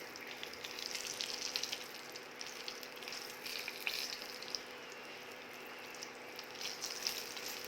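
Beaten egg pieces with turmeric sizzle and fry steadily in a pan as they are gently tossed, a continuous close crackle with no talking.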